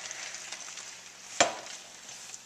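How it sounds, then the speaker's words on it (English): Shrimp sizzle steadily in a heated frying pan over medium-high heat, a soft continuous hiss interrupted by one sharp clack of a utensil against the pan. "I'm just going to stick this in my heated frying pan over medium-high"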